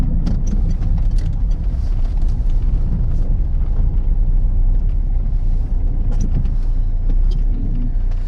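A Citroen C3 HDi diesel car with a worn clutch and a bad wheel bearing creeps along at low speed, its loud, deep engine and road rumble droning steadily with occasional rattles and knocks.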